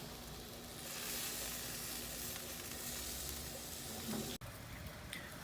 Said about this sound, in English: I just wanna show you that beautiful piece right there, sizzling